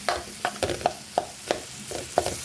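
A spoon mixing mashed potato filling for samosas, giving a run of soft rhythmic scrapes and taps against the bowl, close and clear with a faint sizzle in the background.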